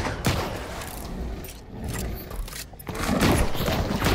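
Video game gunfire at the Starport landing pad: bursts of shots and rumbling booms in a chaotic firefight, fairly loud and continuous with a few brief lulls.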